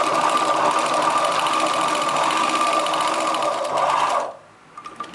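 A sewing machine runs steadily while stitching a chudidar top, a close, continuous mechanical whir for about four seconds before stopping abruptly, followed by a few faint handling clicks.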